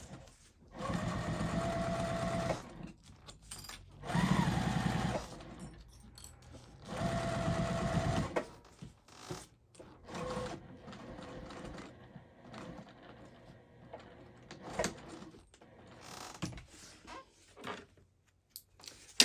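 A sewing machine bastes a crossbody bag pocket near the seam allowance in several whirring bursts of stitching, separated by quieter pauses and small mechanical clicks as the fabric is adjusted.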